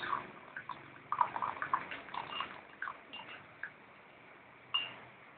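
Water is poured into a glass or mug during a magic mug trick, a faint trickle with small splashes and light clinks, then quieter drips.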